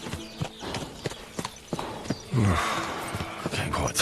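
Horse hooves clip-clop in a steady walking rhythm in Kingdom Come Deliverance 2, close and fairly clear, then a louder rushing burst briefly overlaps the steps.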